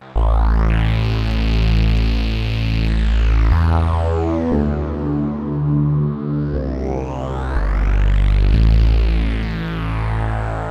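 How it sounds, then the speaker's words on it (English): Bitwig 5.1 Fizz filter with its feedback circuit shaping a synth tone: a loud, continuous buzzy drone with sweeping, crispy resonant filter movement and shifting pitch steps, no voices. "Fizz is a filter with a very unique feedback circuit and a cutoff point dedicated to it. It can give you nice crispy sounds"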